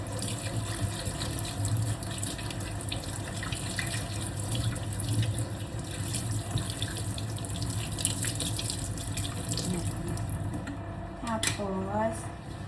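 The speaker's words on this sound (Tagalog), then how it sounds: "Tapos, nalagyan ko sila ng tubig nito." Tap water runs into a container for bathing fish, a steady splashing flow with a brief gurgle near the end and a voice speaking over it.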